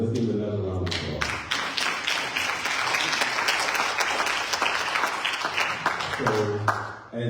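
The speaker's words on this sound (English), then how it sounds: "Let's give another round of applause." Audience applause at a community conversation event, dense steady clapping across the whole stretch with voices speaking briefly at the start and end.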